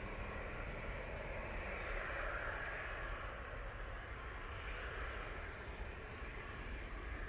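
An Embraer E195 airliner arriving from Copenhagen gives a faint, steady, distant jet rumble with a soft broadband hiss, staying level throughout with no voices over it.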